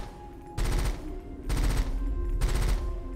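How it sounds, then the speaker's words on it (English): A burst-fire gun in the video game Rusted Moss shoots in three loud, evenly spaced volleys of rapid rounds, each burst a dense crackling rattle over a low steady game hum. "Oh, it's burst fire."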